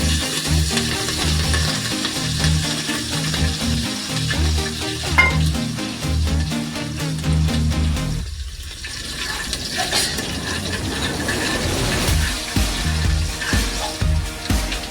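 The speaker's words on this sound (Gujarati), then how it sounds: "હવે ઘડી આપણે એમાં લીલા મરચાં એડ કરી દઈશું." Green chillies hit hot oil in a frying pan while bataka vada filling is made, giving a loud, close sizzle with stirring scrapes; the hiss drops away briefly midway, then fresh crackling and spoon clatter return.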